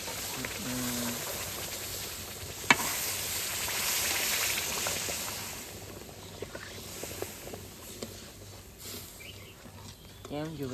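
Milk poured into a hot pan sizzles with a broad, steady hiss that swells and then slowly fades, with a brief clatter early on and faint background voices.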